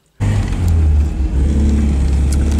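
A classic 1970 MGB GT car's engine starts up abruptly and runs steadily with a deep, close rumble. There is no talking.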